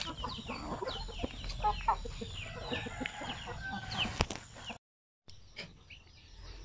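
Free-range chickens cluck and call across a farm range area, with several birds overlapping at moderate distance and a steady outdoor background; there is a brief dropout near the end before the ambience returns.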